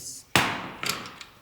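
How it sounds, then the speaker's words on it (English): A hammer strikes an alternator being tapped into place during a replacement, one sharp loud metallic hit followed by a few lighter taps, close up with a brief voice before. "So sometimes you just gotta tap it because you have a washer here that expands."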